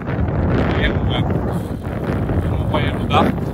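Wind rushing over the microphone of a cyclist riding a bicycle on a long 300 km ride with a tailwind, a steady loud broadband roar throughout.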